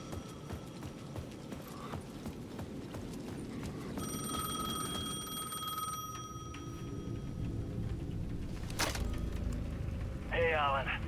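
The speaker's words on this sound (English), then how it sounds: "The payphone at the edge of the plaza was ringing again." A payphone rings in the video game Alan Wake 2, standing at the edge of a plaza. The bright repeating electronic ring comes in the middle of the clip over a dense game soundscape, with voices talking throughout.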